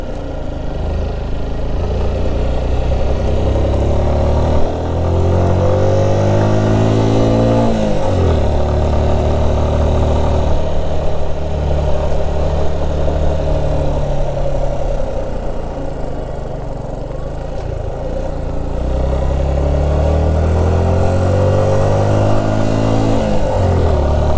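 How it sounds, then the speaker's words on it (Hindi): A motorcycle engine labors loudly and continuously in first gear up a steep mountain road climb, its pitch rising and sagging in long strained sweeps as it pulls under heavy load. "बाइक ना पहले गियर में भी ना लोड मान रही है यहाँ पे कि भाई जो चढ़ाई है ना वो काफ़ी ज़्यादा है।"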